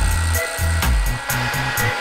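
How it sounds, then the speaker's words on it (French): A heat gun blowing on the crankcases of a used Ovetto moped engine: a steady, close, whirring blower hum with a faint whine, continuous and even for about two seconds, with no talking. "on va chauffer les carters au décapeur thermique"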